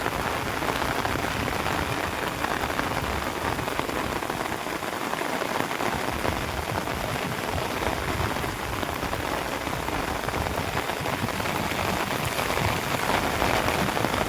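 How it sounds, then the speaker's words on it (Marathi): Heavy rain pours steadily, a dense, constant hiss of drops striking surfaces with no pauses and no voices. "आत्ता जो पाऊस झालाय ना याचा स्पीड"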